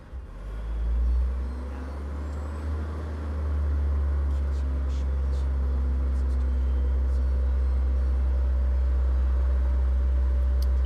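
A loud truck passes outside a room close by, a heavy low rumble swelling within the first seconds and then holding steady and strong through the rest.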